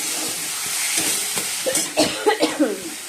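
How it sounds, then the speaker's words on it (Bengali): Bengali spice paste being stir-fried in a pan in a home kitchen, a soft continuous sizzle with scraping stirs and spatula knocks growing more frequent toward the end. "আর এদিকে মশলাটা ভালো করে কষে নিচ্ছি"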